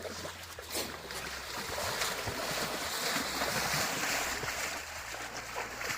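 Floodwater rushes and splashes continuously amid wind noise and low rumbling, a steady broad wash of flowing water outdoors.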